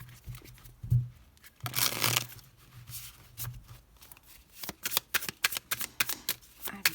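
Oracle guidance cards being shuffled by hand, with repeated riffling and scraping bursts, close and fairly loud, the rhythm quickening toward the end with no speech.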